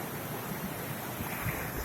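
Water pouring from the sluices of Nattar Kanmai lake in Karaikudi, a steady broadband rush and wash like surf, continuous and fairly loud, with wind buffeting the microphone and no talking.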